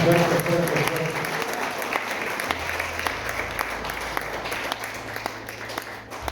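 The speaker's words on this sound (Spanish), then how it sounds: "¿Cuánto dan un aplauso al Rey de Reyes y Señor de Señores? Un aplauso fuerte." A church congregation applauds during a sermon, a steady wall of clapping that holds for several seconds and slowly thins, with a low hum and voices underneath.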